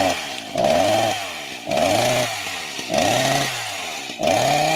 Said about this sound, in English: Correct. Chainsaw. It's a chainsaw.